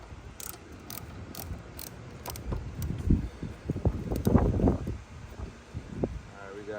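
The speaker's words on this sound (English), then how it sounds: "Taking out these two little bolts so I can get this deck lid loose" A ratchet removes small bolts from the deck lid of a Mustang GT: a few crisp clicking bursts up close, followed by rustling handling noise and soft mechanical rattles.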